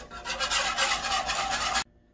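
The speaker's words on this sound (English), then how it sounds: "And let's give this a whisk." A whisk scrapes rapidly and steadily against the bottom of a pot of soup with broth and heavy cream for nearly two seconds, then stops abruptly into near silence.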